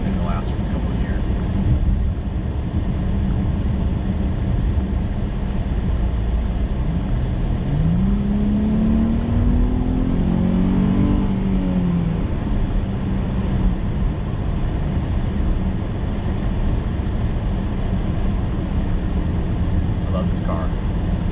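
A car drives on Boundary Drive in Henderson, Nevada, with steady road and engine noise throughout and a passing vehicle's tone rising and falling midway; no distinct revving stands out.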